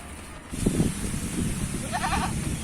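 A goat bleats a few times close by, short wavering cries over a quiet outdoor background.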